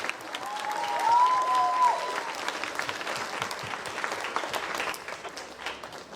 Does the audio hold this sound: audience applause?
yes